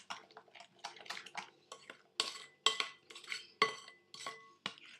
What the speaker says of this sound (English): So I'm just going to toss this into this mixture. So just kind of mix this really well.